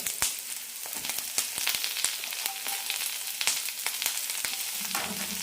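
Carrots for carrot chutney sizzle in a hot pan with softened onions, a steady crackling fry broken by sharp spatters and stirring clicks, no voices.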